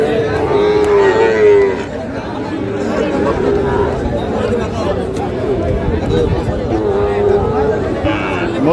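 Shahiwal bull calves and other cattle low at the Ambari village livestock market, with several loud moos rising over a steady crowd murmur and nearby people talking.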